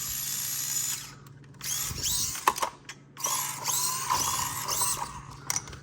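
Small Furitek Cedar motor driving an SCX24 RC crawler at slow crawl speed, a whiny high electric drivetrain hum with gear whir that rises and drops in bursts, close up with no talking.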